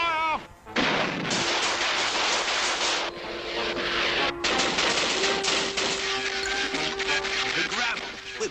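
Cartoon gunfire from police and army troops, a long loud burst of rapid machine-gun-like shots after a brief shouted line, with a few tonal sound effects running underneath.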